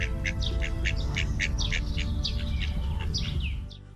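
Many birds call at once at an exotic animal farm in Bashkortostan that keeps peacocks, ostriches and other unusual birds. Dense, overlapping chirps and squawks run steadily and loudly, then drop away near the end.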